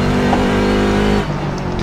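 Race car engine in the iRacing simulator on the Barber circuit, a loud, steady high-revving drone close up that eases off near the end, with a faint hint of tyre noise.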